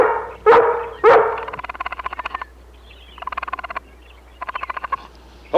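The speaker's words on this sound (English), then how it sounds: "Hold that dog back, boy." A dog barks sharply twice near the start, then a run of rapid, rhythmic yipping or chattering bursts follows in three short groups, loud and close with no speech.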